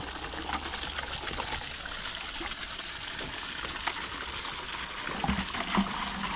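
Water from a borewell pump on a farm runs in a steady, low trickling gush, soft and continuous throughout, with no voices.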